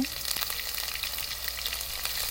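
Garlic paste hits hot oil with whole cumin seeds, already crackling with chilli, while cooking a fish-head moong dal. It makes a loud, dense, continuous frying hiss, close and unbroken.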